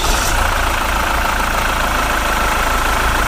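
Diesel engine of a Chevrolet Captiva facelift with a turbo actuator fault, running steadily close up, a loud, even clattering idle throughout.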